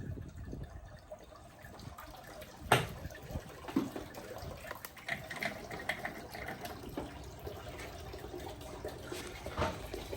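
Garden hose water running and gurgling through a Nissan Skyline engine's cooling system during a flush, a quiet, uneven trickle and splash with a few louder spurts.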